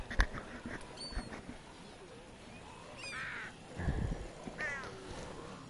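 Crows caw a few times at a distance within The Walking Dead: Michonne video game, faint calls scattered over a quiet, rustling ambient background.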